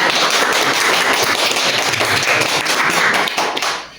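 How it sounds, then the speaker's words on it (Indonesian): Classroom applause for a student during a lesson on wudu, a loud dense burst of many hands clapping at once, steady for several seconds before trailing off at the end. "Tepuk tangan untuk saudara"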